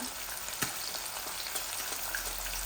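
Onions fry with chili spice in a pan, giving a steady crackling sizzle at moderate level with a few small pops and no voices.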